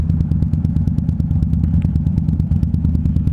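A Harley-Davidson Dyna Street Bob rumbles along through Ocean Beach, its big engine thumping in a close, rapid, loping beat with rattling clatter and no talk.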